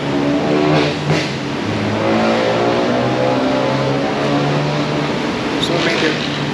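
A car engine revs loudly on purpose, giving a sustained, raspy roar with rising and falling pitch, heard close and alone.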